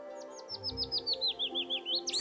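A single songbird delivers a quick descending series of about a dozen clear whistled notes, evenly spaced and close, over a soft insect drone with no speech.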